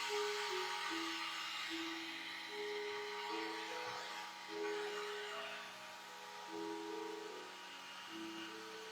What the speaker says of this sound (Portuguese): aqui eu vou usar um secador só para secar um pouquinho mais